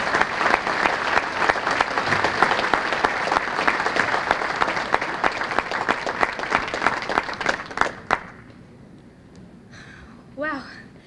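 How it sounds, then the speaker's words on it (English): Enthusiastic audience clapping at the Lorain Sports Hall of Fame enshrinement banquet, loud and sustained with distinct individual claps, then cutting off abruptly as a speaker begins talking in a quiet room. "ladies and gentlemen, if you could, a big round of applause"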